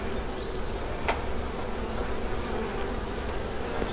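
Honeybees at working Dadant beehives keep up a dense, continuous buzz close by, a steady drone that fills the whole stretch with no talk over it.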